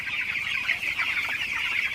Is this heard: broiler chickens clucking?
yes